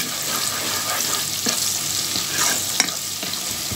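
Cumin seeds sizzle in hot oil in a pan, a constant bright frying hiss with occasional stirring scrapes and taps nearby, and no one speaking.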